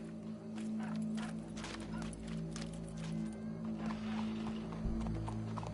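Horse hooves clip-clopping in Red Dead Redemption 2 over a low steady background tone, with irregular, fairly close hoofbeats throughout.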